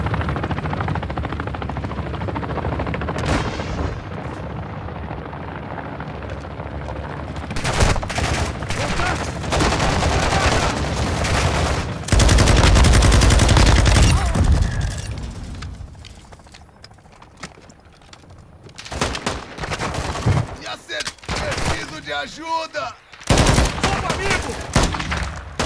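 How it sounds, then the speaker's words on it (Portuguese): Rapid bursts of gunfire and explosions from a Call of Duty DMZ match rattle through most of the stretch, loud and dense with brief lulls, under occasional voices. "os caras estão dando tiro, hein?"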